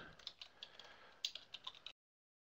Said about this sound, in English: I'm typing in a link.